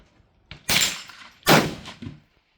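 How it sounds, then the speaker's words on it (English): Two sharp, loud rifle shots from a .270 Winchester with a 28-inch barrel ring out close by, spaced under a second apart, each with a short fading tail. No one speaks. "This rifle is so much fun to shoot."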